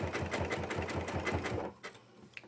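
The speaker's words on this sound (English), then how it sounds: "I went ahead and I keep sewing." A sewing machine stitches fabric strips into tubes for a jelly roll rug, its needle thumping in a fast steady rhythm up close before stopping, followed by a few faint handling clicks.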